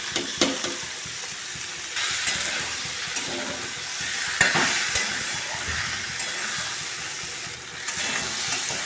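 Fried potatoes with salt and spices being sautéed in a pan sizzle and hiss steadily, with stirring scrapes and occasional knocks close by, no voices.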